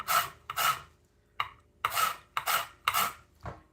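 An orange being zested with a hand zester, seven close rasping strokes in quick succession with short pauses between them, crisp and scratchy, no talking.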